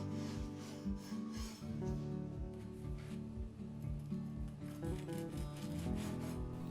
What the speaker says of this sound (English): I'll cut a couple of slices off and let you see what it's like on the inside